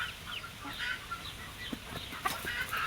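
Black hens and a rooster, with a Leghorn among them, cluck softly and irregularly in a farmyard flock; several overlapping mid-distance calls stand over a low, steady background.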